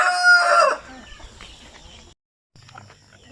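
Native chickens on a farm, a loud close crow opening then fading into softer scattered clucks, a brief gap, and more low clucking at the end.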